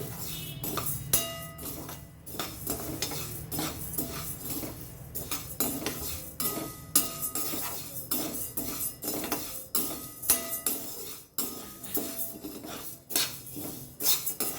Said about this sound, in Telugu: ఇది చిన్న మంట మీద వేపుకోవాలండి డ్రై రోస్ట్ చేయనండి